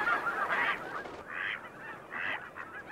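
A flock of migrating birds at a marsh, with geese giving several honking calls at a moderate distance in a quiet outdoor setting.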